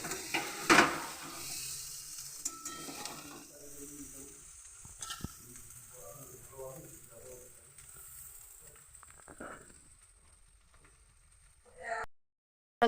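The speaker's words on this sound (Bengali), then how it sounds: "আলুগুলো ভাজছি কেমনভাবে।" Potatoes sizzle and fry in a pan over a steady hiss, with occasional clinks and scrapes of stirring, heard close up in a home kitchen.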